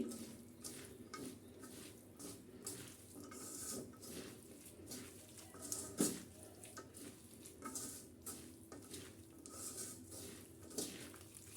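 Bitter gourd and potato pieces are worked together with spices by hand, making soft, faint, rhythmic squishing and rustling strokes that repeat steadily, with one sharper knock partway through.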